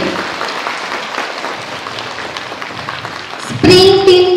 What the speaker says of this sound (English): Give a round of applause to the team Spring.